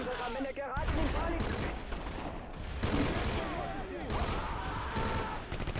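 Machine gun fire against a Soviet squad in the Close Combat: Cross of Iron World War II game, repeated bursts of rapid shots with sharp cracks and rumbling impacts, dense and loud across the whole stretch.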